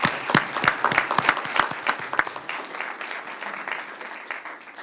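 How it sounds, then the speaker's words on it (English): Round of applause at a Citrus Heights city council meeting: a burst of sharp, close claps from a few people at first, thinning into lighter, steadier clapping that fades toward the end. "A round of applause."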